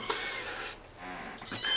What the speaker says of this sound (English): As you guys can hear, Spaz in the floor meowing because I'm in the kitchen.